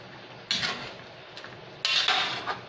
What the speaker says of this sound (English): you should mix or stir it every now and then.